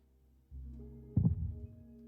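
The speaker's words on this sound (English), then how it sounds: "You can hear the heartbeat." In the Minecraft video game, the Warden's heartbeat sounds in an Ancient City as a single deep, muffled thump over a faint low hum, fairly quiet and isolated.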